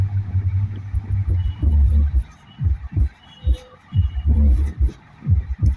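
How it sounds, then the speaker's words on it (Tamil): Deep bass thumps from the 12-inch subwoofer of a 5.1 speaker kit under load testing, pulsing in a loose repeating rhythm, loud and close, with a low hum between beats. "இப்போ சப் சவுண்டு வரும்போது நீங்கள் பார்க்கலாம்."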